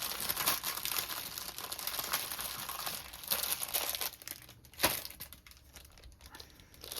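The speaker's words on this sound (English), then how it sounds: "Aren't these cute little Ziploc bags?" Crinkly plastic Ziploc bags handled up close, with continuous rustling and crackling that fades in and out, plus one sharper crinkle near the end.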